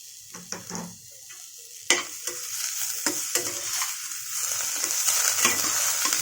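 Snake gourd is tipped into frying lentils in a pan, and a few sharp scrapes and clatters of stirring are followed by a sizzle that grows steadily louder and fuller.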